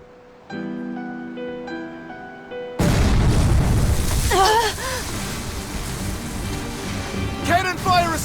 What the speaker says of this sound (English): Cannon fire astern!